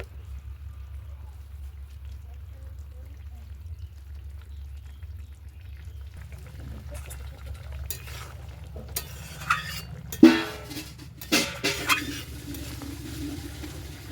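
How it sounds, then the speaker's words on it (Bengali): A magur fish curry simmers quietly in a pan as a low steady bubbling, then a spoon stirring scrapes and clanks against the metal in several loud bursts near the end. "ভেজে রাখা মোরলা মাছ দিয়ে দেব। আবারও ভালো করে ফুটিয়ে নেব।"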